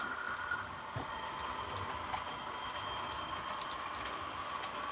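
A model maintenance train rolls steadily along the track into a storage yard with a continuous rumbling hum and faint rhythmic clicks, heard from a moderate distance.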